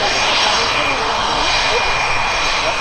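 A Royal Canadian Air Force CF-18 Hornet jet at an air show near Gatineau, Ottawa, gives off a loud, steady, broadband engine roar that stays constant and dense throughout.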